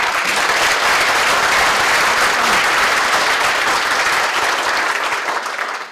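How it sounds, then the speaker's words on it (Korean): Loud, dense applause from a large audience at a Democratic Party national unity committee launch event, a continuous roar of clapping that holds steady for about six seconds before easing off at the end. "우리 이중찬 고모님께 큰 박수 좀 부탁드립니다"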